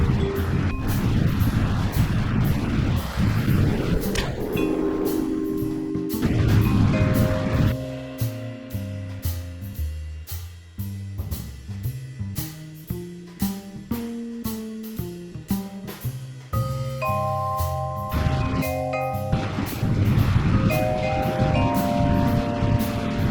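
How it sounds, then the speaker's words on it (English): Rocket engine thrust in the Kerbal Space Program video game: a loud, continuous broadband roar that thins in the middle into layered tonal hums and rhythmic pulses, then swells back to full intensity. "the excess thrust makes my rocket super unstable"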